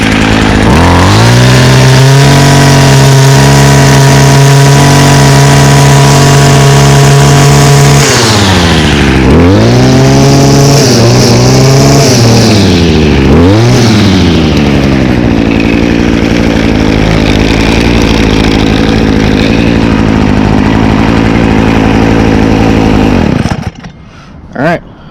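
A small two-stroke gas engine on an Echo garden power tool, fogged during winterizing and now smoking slightly, runs loud and close at a steady high idle, then blips and revs unevenly before cutting off near the end.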